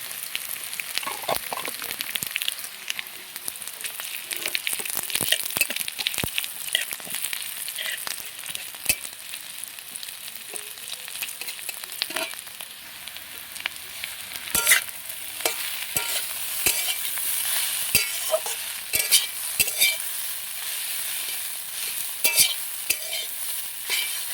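Bay leaf and nigella seeds frying in hot oil, a steady crackling sizzle with scattered sharp pops and spatters throughout, close and fairly loud with no talking.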